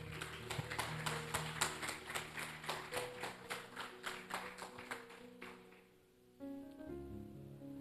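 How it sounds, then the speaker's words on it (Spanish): A church congregation claps in a steady rhythmic beat, faint and distant, for several seconds before the clapping fades out and soft sustained musical tones take over. "Dale un aplauso al que vive y reina"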